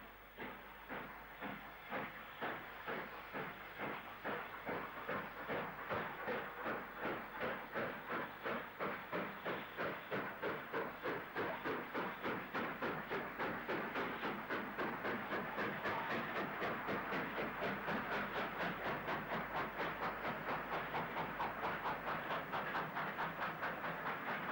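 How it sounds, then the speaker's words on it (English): Black 5 steam locomotive 45285 working a southbound service in 1966, its exhaust beats and hiss quickening into a fast, steady chuffing that grows louder as it approaches, with no voices. "Black 5 45285 calls on a southbound service in 1966."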